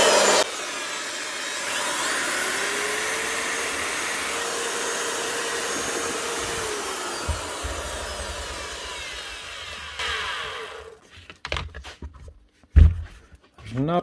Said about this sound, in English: Variable speed's going.